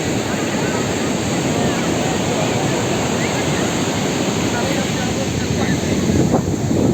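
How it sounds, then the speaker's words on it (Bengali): Surf rolls in on the beach at Puri on a sunny morning, a loud, continuous wash of breaking waves mixed with wind buffeting the microphone, with no break across the whole stretch. "আর আজকের যা ঢেউ দেখো"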